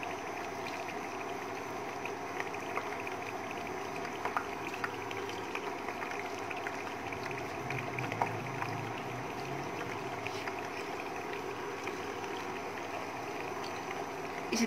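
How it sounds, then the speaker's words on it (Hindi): Mixed vegetable pakoras of potato and aubergine frying in hot oil over medium heat, a steady close sizzle and bubbling that runs evenly throughout with small pops. "अब हम इसके अंदर पकौड़े डालना शुरू करते हैं।"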